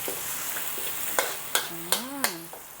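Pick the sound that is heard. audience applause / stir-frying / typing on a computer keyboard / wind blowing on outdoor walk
stir-frying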